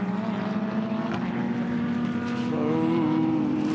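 GT race cars in a GT World Challenge Europe race at the Nürburgring roar past one after another, a loud steady engine drone with rising pitch as they pass close by.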